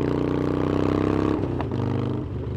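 A Harley-Davidson Forty-Eight motorcycle running hard in second gear at about 120 km/h, its loud, close engine droning in a steady rich hum before the pitch shifts and settles lower about halfway through, with no talking.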